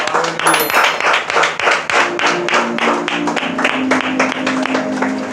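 Church congregation clapping in acclaim of Jesus Christ at an Easter service, steady rhythmic hand claps repeating through the clip under sustained music and voices, loud and close.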